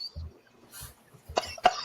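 Several short, close coughs burst out one after another in a small studio-style podcast conversation, the last two sharper and louder, with quiet gaps between them.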